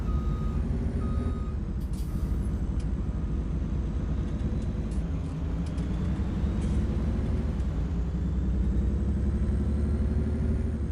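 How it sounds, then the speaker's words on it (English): Truck engine in Farming Simulator 19, a steady low rumble with shifting harmonics as gears change, joined by a brief high beep and a hiss partway through, running continuously without talk. "Are you guys listening to the engine sounds?"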